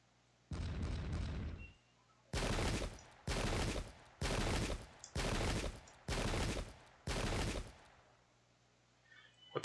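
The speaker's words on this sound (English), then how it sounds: "That's musket shot." Musket volleys in the video game Pike and Shot, recreating the 1644 Battle of Lostwithiel: six loud, roughly second-long rolling bursts of gunfire come in steady succession with short gaps of quiet between them.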